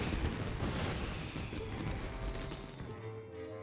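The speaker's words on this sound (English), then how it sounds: "this is turning into a bit of a fireworks display" Fireworks bursting in Genshin Impact at a festival: a continuous, moderately quiet wash of crackling, popping explosions that tails off toward the end.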